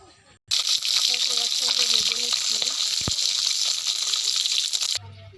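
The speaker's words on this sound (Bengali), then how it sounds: "মাছটা ভেজে নিব।" Taki fish frying in hot oil in a wok makes a loud, continuous crackling sizzle that starts abruptly and runs for about four and a half seconds before cutting off.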